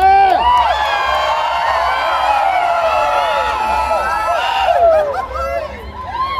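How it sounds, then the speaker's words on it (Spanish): A festival crowd at a Dia de los Muertos event in San Antonio lets out a loud grito, long whooping cries and shouts from many voices layered together over a low rumble, fading slightly near the end. "Let's start off with a big grito,"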